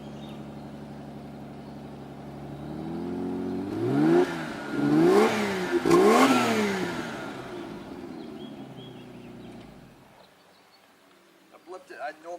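A cold-started 1991 BMW 325i convertible with a Garrett turbo and water-methanol injection sits at fast idle, then blips its revs up and down in several rising and falling sweeps before settling back, with faint talk.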